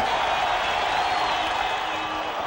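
A baseball crowd at a 1993 Chicago White Sox game roars in a steady, loud wash of cheering and applause that holds without a break, the fans on their feet with one out left in a shutout.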